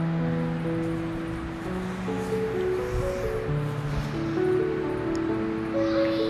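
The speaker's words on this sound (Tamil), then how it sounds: "வடையாக தட்டி இப்போ போடலாம். எண்ணெய் சூடாயிடுச்சு." Medu vada, an urad dal batter fritter, frying in hot oil: a steady, close sizzling hiss that continues without a break, with faint melodic tones underneath.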